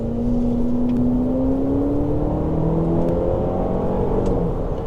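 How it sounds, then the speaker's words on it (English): Turbocharged 2024 Cadillac XT4 Sport AWD accelerating hard in sport mode, heard from inside the cabin as a steady engine drone rising smoothly in pitch through the run with no pause. "switch it into sport mode, pump the brakes a little bit, give it some gas"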